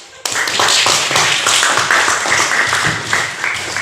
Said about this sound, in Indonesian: Kepada Leonard yang sudah menjelaskan, kita beri aplaus